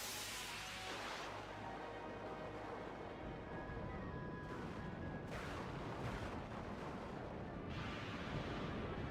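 Ship cannon fire in Skies of Arcadia: Legends rolls out as heavy booming blasts, a dense barrage of deep thuds and rumbling crashes continuing throughout with no pauses.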